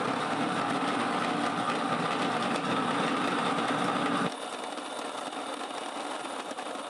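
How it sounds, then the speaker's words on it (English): A stone grinder mill grinds corn into flour for polenta with a steady, loud mechanical whirring drone that drops abruptly to a lighter, quieter hum partway through. "this is a real stone grinder. A mill which makes fresh flour for baking, or like in this case, polenta"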